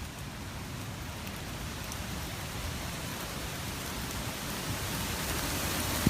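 Steady, heavy rain during Hurricane Irma in South Florida pours without a break as a dense, even hiss for the whole stretch, with no voices.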